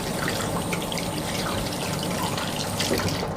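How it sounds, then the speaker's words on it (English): Running tap water pours steadily as hands are rinsed underneath, a continuous close splashing hiss with small irregular splatters, no voices. "Once you finish, we want you to rinse your hands."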